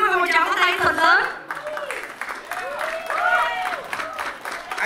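At a temple vegetarian fundraising banquet, an audience claps for a singer on stage, a busy patter of hands that runs beneath someone speaking loudly into a microphone.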